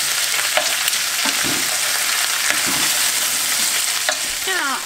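Quails browning in a pan with onion and slab bacon, a steady loud sizzle of frying fat running throughout with occasional scrapes and clinks of stirring, no voices.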